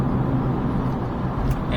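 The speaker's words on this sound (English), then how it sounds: "Traffic is a bit of a problem," Continuous road traffic noise around a motorcycle ride, a dense low rumble of engines and tires holding steady from start to finish.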